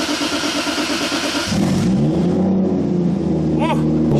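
A Toyota Supra engine starting up and revving, a loud close idle rising into a rougher, throbbing rev with brief rising blips near the end; a voice is faintly audible.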